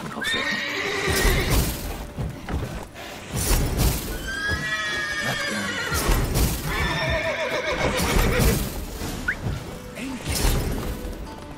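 Several loud, shrill horse whinnies rise and fall in repeated bursts in The Witcher 3, with hooves clattering and stamping throughout between the cries.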